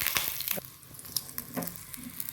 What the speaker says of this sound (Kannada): ನಂತರ ಒಂದು 4 ಜಜ್ಜಿರುವಂಥ ಬೆಳ್ಳುಳ್ಳಿನ ಹಾಕ್ತಾಯಿದ್ದೀನಿ.